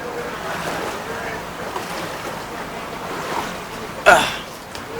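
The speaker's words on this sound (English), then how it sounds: "This is the fullest I've ever seen this river." Floodwater rushes through a swollen river in Curepe during the 2013 flood, a broad steady roar with wind buffeting the microphone and a brief louder gust near the end.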